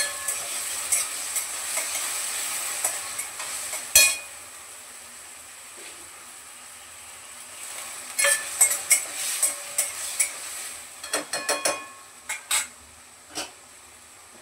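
Potatoes with a small spoonful of salt sautéing in a pan for sabudana khichdi, giving a steady close sizzle broken by scraping and clinking of a stirring spoon against the pan.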